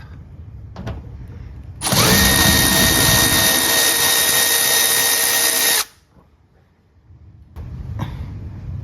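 A power drill runs steadily for about four seconds, loud and close, backing out a 7mm screw near the headlight of a 2013 Chevrolet Tahoe, with quieter handling noises before and after.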